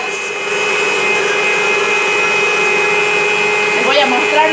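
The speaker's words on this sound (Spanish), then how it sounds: "A batir todo para desintoxicarnos a full" A blender whirs steadily, blending an aloe detox drink, a loud continuous motor drone from start to finish with a brief rising pitch near the end.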